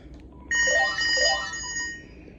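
A Panasonic KX-TG3721 cordless phone rings with a bright electronic trilling burst that starts after a short silence and holds for over a second before fading, close and clear.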